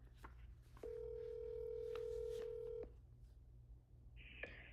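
A telephone dials a number: a few short touch-tone beeps, then a long steady tone lasting about two seconds, followed by a brief higher electronic chirp near the end, fairly clear over a low background hum.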